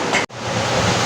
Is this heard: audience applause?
no